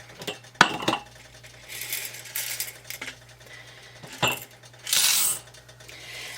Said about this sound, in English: Now I'm going to go ahead and get all of my jars filled with the pasta.